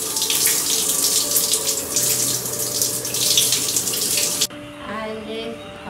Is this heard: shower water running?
yes